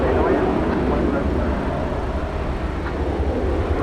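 Turkish Airlines jet landing at night at DFW Airport, a steady broad engine roar that holds at constant loudness throughout, with distant radio chatter faintly underneath.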